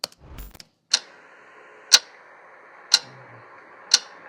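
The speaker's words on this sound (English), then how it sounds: "this is the sound effect that I'm going to add, the clock effect" Four crisp, evenly spaced clock ticks about one second apart, each sharp and close, with a faint hum between them after a brief rustle at the start.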